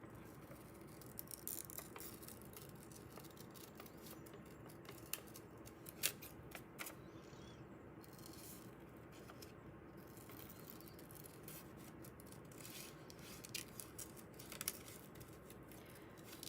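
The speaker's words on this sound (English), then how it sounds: "fussy cutting with big scissors is not easy" Big scissors fussy-cutting paper at a desk, a soft continuous crisp snipping and rustling with small clicks, fairly faint and close, with no talking.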